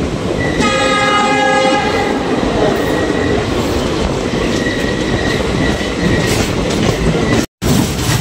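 A Sifhung Express train rolls into Bijni station with a loud, continuous rumble of wheels and carriages, and a sustained horn sounds early on.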